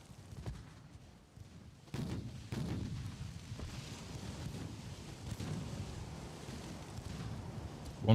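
Naval gunfire in the warship game Ultimate Admiral: Dreadnoughts, several faint distant booms with rumbling tails over a low windy background, quiet and sparse, with no talk.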